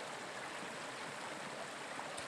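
A small river runs down a boggy hillside near Tyndrum in the Scottish Highlands, a steady broadband rush of flowing water, close and continuous with no breaks or voices.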